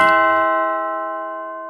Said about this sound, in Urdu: اچانک دروازے کی گھنٹی بجی